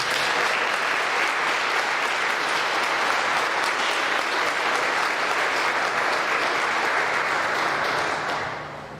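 A school Veterans Day assembly crowd applauds the veterans in a dense, sustained round of clapping that holds steady and then tapers off at the very end.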